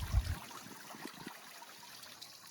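A pond fountain driven by a 300 GPH pump splashes with a soft, steady trickling spray, faint and moderately close. A brief low thump comes at the start.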